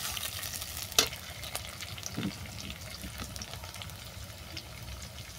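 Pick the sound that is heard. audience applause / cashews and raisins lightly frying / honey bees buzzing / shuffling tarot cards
cashews and raisins lightly frying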